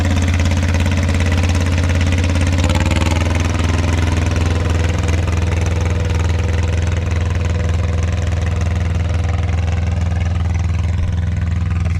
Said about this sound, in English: This is the Mitsubishi MT372 two-cylinder diesel. He's pulling a Brindley three-point disc.